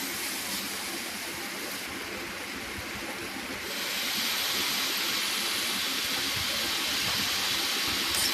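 Chowmein being stir-fried in a pan in a home kitchen, a steady sizzling hiss that swells louder partway through and then holds, with soft scraping underneath.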